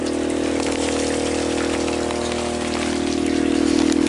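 Water gushes and drains steadily from an aquaponics float bed, a loud, continuous rushing flow with a low pump-like hum, heard up close without speech.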